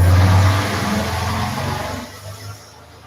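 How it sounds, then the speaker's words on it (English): A car passes on a road nearby, a broad engine-and-tyre rumble loudest at the start and gradually fading away over a few seconds. "I'll let that car pass politely"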